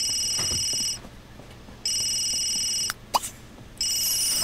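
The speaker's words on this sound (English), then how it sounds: "we got a phone call" A Sims 3 in-game phone rings in three bursts of bright electronic trilling separated by short pauses, with a quiet click and blip in the second gap.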